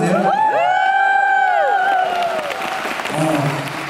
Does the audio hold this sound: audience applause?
yes